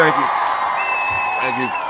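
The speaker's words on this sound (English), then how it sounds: "Give him a round of applause" At a toast-style speaking gathering, a steady wash of audience applause runs under voices briefly calling out over it.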